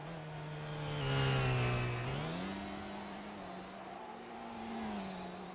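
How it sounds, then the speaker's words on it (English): A Formula 1 race car in a video game holds a steady engine tone that rises and falls as it revs through gear changes on a qualifying lap, clear and alone with no talk. "As Clumsy gets in the car to start his outlap now"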